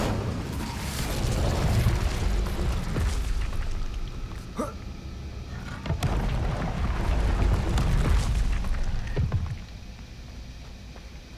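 The Incendio fire spell cast in Hogwarts Legacy: deep, rumbling whooshes of flame swell and fade in two or three long bursts, with a few sharper cracks between them.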